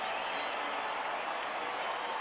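Stadium crowd at a Minnesota Twins versus Arizona Diamondbacks baseball game roaring and cheering after a long home run to right center, a steady, dense wash of applause and voices with no pauses.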